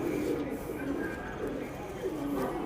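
Pigeons coo at a Delhi–Haryana pigeon club, a soft steady murmur of calls running under people talking throughout.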